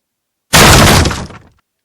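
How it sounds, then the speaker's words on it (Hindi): A door being broken down bursts in with one sudden loud crash and splintering, shattering debris that fades out over about a second. "सरदार टूट गया दरवाजा।"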